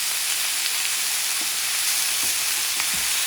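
Thyme and other aromatics sizzling on a hot cast iron griddle beside sausages and ribs, a steady dense hiss close by with a few faint clicks, no voices.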